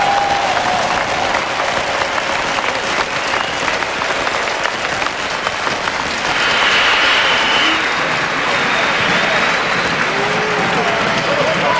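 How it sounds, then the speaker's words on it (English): A big stadium crowd at the World Bowl American football game cheers and claps for the Frankfurt Galaxy, a loud, continuous roar of applause that rises further partway through, with voices underneath. "I think we ought to give a round of applause to Ernie Stauntner and the Frankfurt Galaxy"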